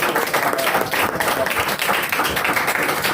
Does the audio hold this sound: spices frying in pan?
no